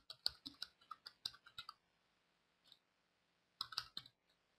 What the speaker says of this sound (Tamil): இப்போ வந்து நான் டைப் பண்ணுறேன்.